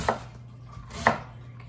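Two crisp knife chops strike a cutting board about a second apart, close up, with a quiet hum behind them.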